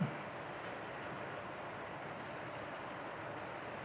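An HO scale model train rolls steadily uphill on a helix with a soft, continuous rumble and faint rail noise, fairly quiet and unbroken, with no voices.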